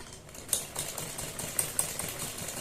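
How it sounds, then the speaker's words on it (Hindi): Steady, fairly quiet whir of a sewing machine stitching along folded fabric for a collar neck patch, with a few light clicks over the continuous hum. "और फिर इस पर हम सिलाई लगाएंगे यहाँ पर"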